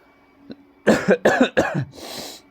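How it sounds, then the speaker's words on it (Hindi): A teacher coughs several times in close succession, a short burst of harsh hacking followed by a final breathy throat-clearing, near and fairly loud against a quiet room. "थोड़ा सा खांसी हो रखा है"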